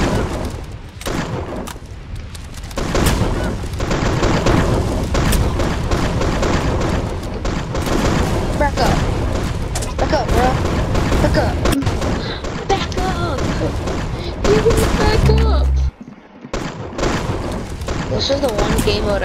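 Gunfire from the video game Arsenal rattles steadily for almost twenty seconds in dense, overlapping bursts. The shooting drops out briefly near the end, and a player talks over it.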